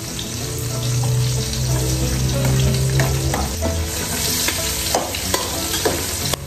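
Onions sizzling and frying in a pan as they are sautéed for adobo, a steady close crackle with stirring scrapes and clinks throughout, no voices.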